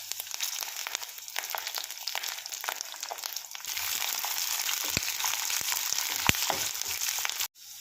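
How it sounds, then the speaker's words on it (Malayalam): Chopped garlic dropped into hot oil with fenugreek seeds for lemon pickle, giving a steady close sizzle with a few sharp crackles, ending abruptly. "അതിലേക്ക് അരിഞ്ഞു വെച്ചേക്കുന്ന വെളുത്തുള്ളി ഇട്ട് കൊടുക്കാം."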